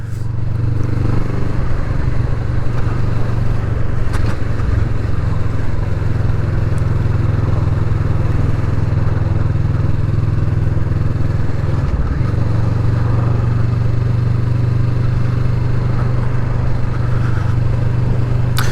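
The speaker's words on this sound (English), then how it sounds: "I'll do the same thing, but a little bit higher in the rev range, so you can hear a little bit of a scream out of it as well" Kawasaki Vulcan S cruiser motorcycle ridden on the road, its engine droning steadily and held high in the rev range for a long stretch, heard loud and close from the rider's position without talk.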